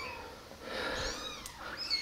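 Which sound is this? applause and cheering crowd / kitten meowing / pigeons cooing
kitten meowing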